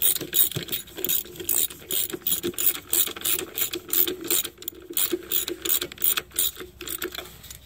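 A hand ratchet clicks in quick, uneven bursts while snugging down the transmission pan bolts on a 2012-2023 Dodge Charger 8-speed, close and fairly loud with no talking.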